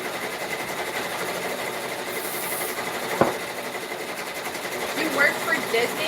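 An embroidery machine stitches a dense, all-embroidery design with no applique, making a steady, close mechanical whir that runs without a break and has a brief sharp tick partway through.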